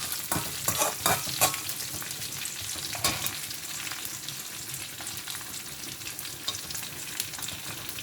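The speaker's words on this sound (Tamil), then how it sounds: "இப்போ பாருங்க வெங்காயம் நல்லா பொரிஞ்சிட்டுது." Onions fry in oil in a pan for a banana flower curry, giving a steady crackling sizzle with a rough scrape of stirring, heavier in the first few seconds. It is close and moderately loud, with no voices.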